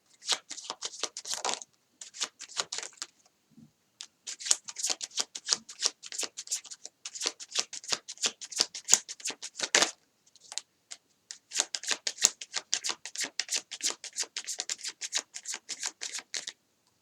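Tarot cards are riffled and shuffled close up in repeated bursts of rapid flicking, with short pauses between bursts and no talking.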